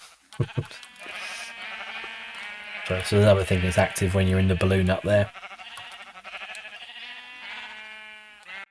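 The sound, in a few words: sheep bleating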